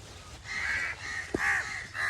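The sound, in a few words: crows cawing at poultry farm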